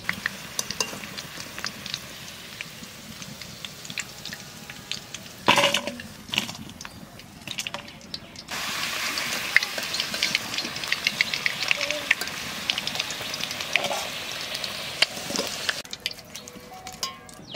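Young jackfruit frying in a pan gives a low, crackling sizzle with occasional scraping stirs and clatter, rising louder in the latter half; a voice speaks intermittently over it.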